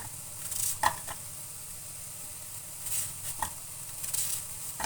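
Minced meat fries in a pan with a steady, close sizzle and occasional scraping stirs, alone without talk.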